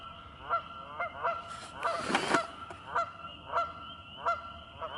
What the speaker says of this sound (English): The track's pet geese